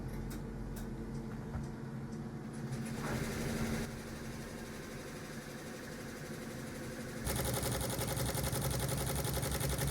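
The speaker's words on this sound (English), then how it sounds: "here I'm using my smaller machine to embroider the cross at the neck of one of the stoles." A smaller embroidery machine stitches a cross at the neck of a purple vestment stole, giving a steady mechanical whir and rapid needle clatter that runs throughout and grows louder and denser near the end.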